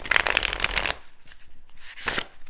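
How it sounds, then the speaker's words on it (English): A deck of oracle cards shuffled by hand, a dense run of crisp riffling flutter lasting about a second, then a quieter pause and a second short burst of card shuffling, close and clear with no talking. "And I will show you how they shuffle."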